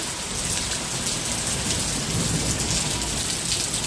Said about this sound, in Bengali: আর মেঘ ডাকছে, প্রচুর পরিমাণে মেঘ ডাকতেছে